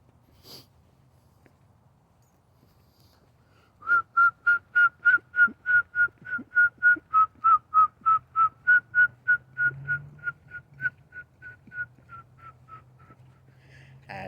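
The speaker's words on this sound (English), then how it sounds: "He tried to whistle the rap song." A person whistles a rap song as a quick run of about twenty short, evenly paced notes that start abruptly, hold steady, then fade toward the end over a low background hum.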